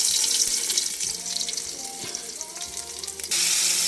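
Fresh-caught fish sizzles and crackles loudly in a pan of hot oil, a dense, continuous hiss heard up close with small pops throughout.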